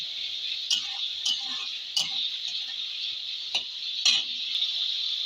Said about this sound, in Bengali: পেঁয়াজটা দিয়ে দেবো। এইবার একবার নেড়ে চেড়ে দেবো।